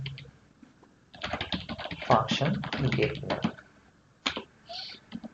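Computer keyboard typing while writing JavaScript code, with bursts of rapid, close key clatter separated by short pauses.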